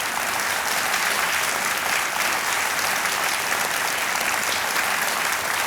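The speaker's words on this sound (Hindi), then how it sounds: "तालियों के साथ इनका हम अभिनंदन करते हैं" Studio audience on a TV quiz show breaks into loud, sustained applause, a dense even clatter of many hands that holds steady for several seconds with no speech over it.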